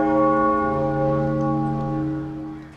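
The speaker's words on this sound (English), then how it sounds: "you have to press the doorbell" A doorbell at a house's front door rings with a sustained, resonant chime, loud and close, its tone ringing on and slowly fading over a few seconds.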